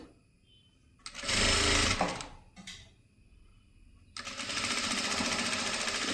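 A sewing machine stitches a slit V-neck on a kurti in two loud, close bursts, then starts again and runs steadily to the end, with quiet gaps between the runs.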